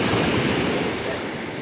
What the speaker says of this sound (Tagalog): Ayan o, lalaki ng alon.